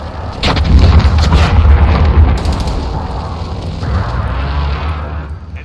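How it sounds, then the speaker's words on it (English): Precision airstrike explosions boom in Call of Duty Modern Warfare during a hardcore team deathmatch, a dense rolling series of heavy, loud blasts that rumble on and then fade out. "Friendly precision airstrike on the way."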